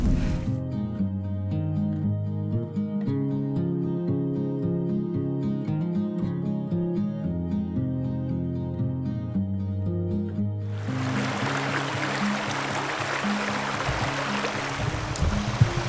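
A fast-flowing stream in the Muotkatunturi wilderness of Finnish Lapland: steady, close broadband rushing water arrives after about eleven seconds of music and continues alone to the end.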